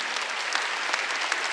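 A Korean church congregation gives a round of applause during a Wednesday worship service, steady many-handed clapping at moderate distance with no speech over it.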